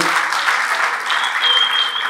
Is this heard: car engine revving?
no